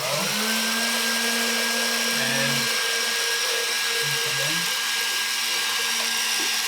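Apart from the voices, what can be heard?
immersion blender mixing vinegar on low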